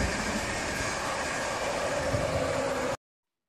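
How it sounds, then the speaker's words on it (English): Train sound effect, a steady rumbling roll of rail cars heard for about three seconds before cutting off abruptly into silence. "T for Train."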